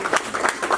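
An audience at an NYPD appreciation awards ceremony gives a short burst of applause, a few loose clustered claps close by.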